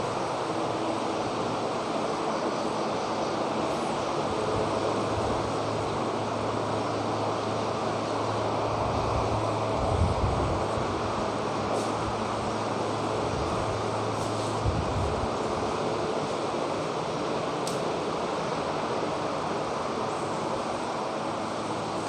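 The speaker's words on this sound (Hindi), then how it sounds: "थोड़ा फैन बंद कर देता हूँ, आवाज़ आ रही होगी आप लोगों को।" Steady broadband whir of an electric fan running near the microphone, a constant even drone through the whole stretch with a low hum underneath and no speech.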